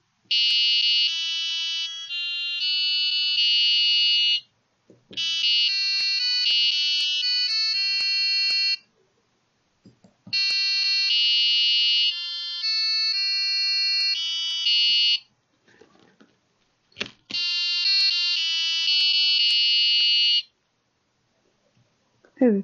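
A piercing electronic buzzer on a micro:bit microcontroller plays a bright beeping march tune, the Turkish national anthem, in several bursts separated by short pauses, with faint handling noises between them.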